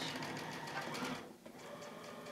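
A sewing machine runs a quick burst of back stitching along a scarf seam, a close steady whirring hum that briefly dips before resuming.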